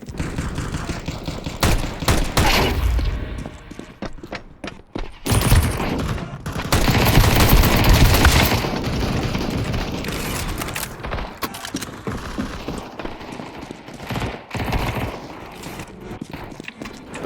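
Rapid bursts of automatic gunfire and single shots from a Counter-Strike 2 deathmatch, loud and dense, with clattering mechanical weapon sounds between volleys and short lulls of quieter action.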